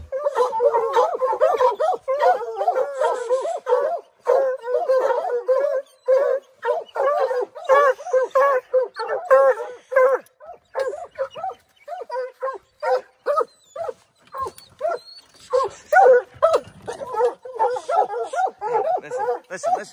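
A pack of hunting hounds bays hard on a bear chase outdoors, a dense run of loud, repeated barks and howls that barely pauses, with people talking over it at times.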